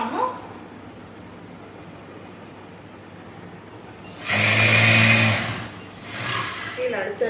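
A sewing machine stitches a maxi nighty in a short loud whirring burst of about a second, preceded by quiet background hiss and followed by a brief softer run.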